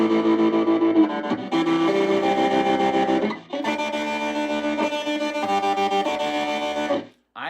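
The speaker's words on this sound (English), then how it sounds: "This one's called Sync Tremolo" Electric guitar chords pulse through a synced tremolo effect, the volume chopping rhythmically within each sustained chord, with short silent gaps between the strummed phrases and no talking.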